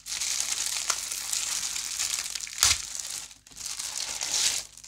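Plastic packaging around a rhinestone ribbon being opened, giving a steady close crinkling and crumpling with one sharp tear-like burst midway, a brief pause, then more rustling.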